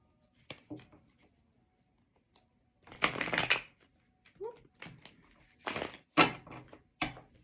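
A deck of Tarot of Wonderland tarot cards is shuffled in several short riffling bursts with quieter handling between, close and clear.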